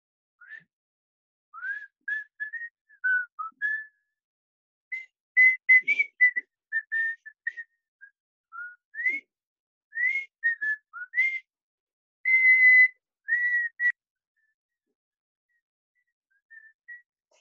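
A whistled tribal song, a lively melodic tune of short rising and falling phrases with brief pauses, whistled alone and clearly with no talking.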